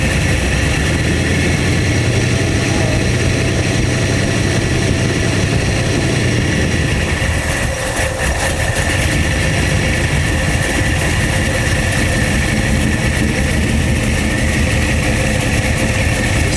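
A large engine idles on a richened fuel mixture, a loud, continuous low rumble with a steady mechanical drone throughout and a slight dip and shift in tone partway through.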